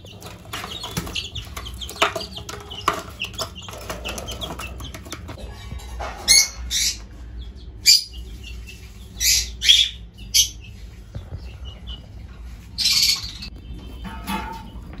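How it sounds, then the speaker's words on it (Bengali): Lovebirds and pigeons in an aviary colony chirp and squawk in sharp, scattered bursts, several loud calls rising close by over a quieter background of softer chatter and rustling. "তোমরা ততক্ষণ এই লাভবার কলোনির ভেতরের দৃশ্যটা এনজয় করো"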